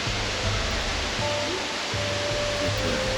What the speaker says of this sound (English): the other side of the waterfall